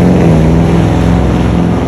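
Porsche Cayenne 4.8 V8 with a tuned exhaust rumbles loudly and close, a deep continuous throaty engine note held steady under the throttle for about two seconds.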